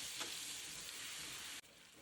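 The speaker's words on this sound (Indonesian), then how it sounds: "Selesai diulek, ini bumbunya langsung aja aku tumis." Ground spice paste of garlic, shallots, candlenuts, bird's eye chilies and salt is stir-fried for tempeh, producing a soft steady sizzle heard faintly and alone, ending in a quick cut.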